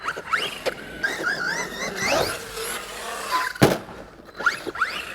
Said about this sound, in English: Brakes are very sharp.